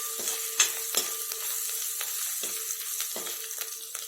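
Crushed ginger and garlic frying in hot oil in a pan, a steady bright sizzle with several sharp spitting pops, close and alone without speech.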